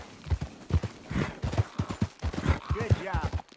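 Horse hooves clip-clopping at a steady trot in a PS4 video game, a regular run of low thuds under a voice talking throughout.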